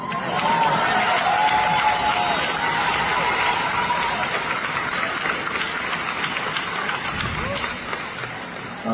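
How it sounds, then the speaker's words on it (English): A crowd of women in an audience applauding, a steady wash of clapping and murmuring that fills the room throughout, fairly loud and sustained before easing slightly at the end. "You hear all of the women in the audience clapping"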